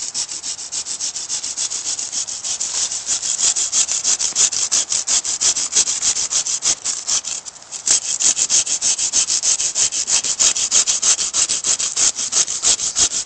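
A Bahco Laplander folding saw cuts through wood with fast, rhythmic back-and-forth strokes, a loud, rasping, continuous sawing that barely pauses once before carrying on.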